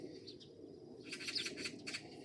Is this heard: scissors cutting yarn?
no